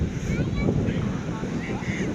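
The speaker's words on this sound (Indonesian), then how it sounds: "Ombaknya lumayan tuh." Waves breaking on a beach with pale sand in the early morning at Ciletuh Geopark, Sukabumi, giving a steady broadband wash of surf mixed with wind rumble throughout, with no speech over it.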